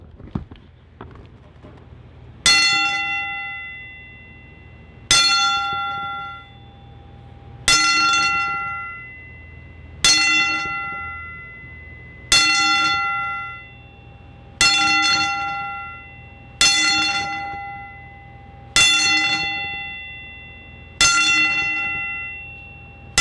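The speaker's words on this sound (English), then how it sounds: "I'm going to go ahead and do a traditional 10-bell salute to Lanny Poffo" A bell is struck nine evenly spaced times during a traditional ten-bell salute, each ring clear and loud and decaying into a long ringing tail before the next strike.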